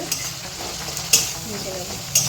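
Spice masala of coriander and chilli powder being fried and stirred in a pan, a steady soft sizzle with scraping stir strokes and two sharp clinks of a utensil against the pan, no voices.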